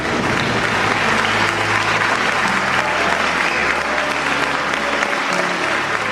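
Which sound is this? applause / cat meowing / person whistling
applause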